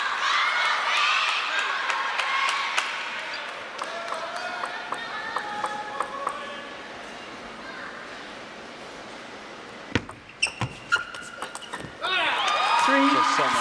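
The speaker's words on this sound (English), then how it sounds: "Koen Pang getting the locals cheering." A local crowd cheering and clapping at a table tennis match in Singapore, a broad roar with ball taps heard mid-rally, under steady commentary.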